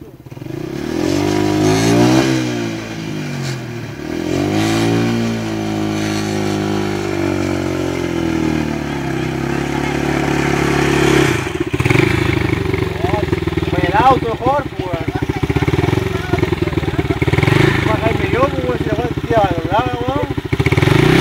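A motorcycle engine revs and accelerates hard, climbing in pitch, dropping back and surging again through repeated throttle bursts, loud and close, with voices talking and shouting over it.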